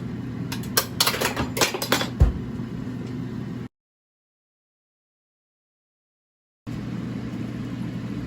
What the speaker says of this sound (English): It's going at a rumbling boil.